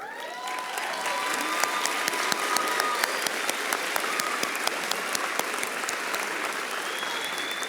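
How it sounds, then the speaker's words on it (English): A large audience at a high school commencement ceremony claps warmly and steadily for the graduates, a dense, sustained patter of many hands that holds at an even level throughout. "Another big round of applause for them, and again for all of our graduates."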